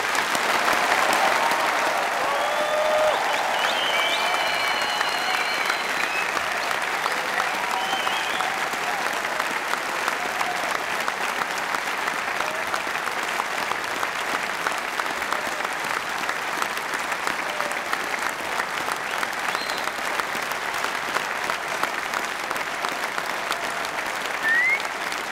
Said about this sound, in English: join in a really great round of applause for all our new graduates